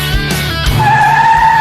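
A 1:24 scale GTR remote control drift car drifting, with short skidding tire squeals and a steady high-pitched electric motor whine rising into a sustained tone, loud and close, no voices.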